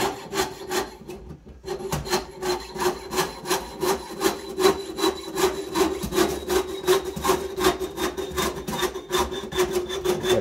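A hand saw held in a rotating clamp cutting through wood, steady rhythmic back-and-forth rasping strokes for about ten seconds, close and clear with no talking.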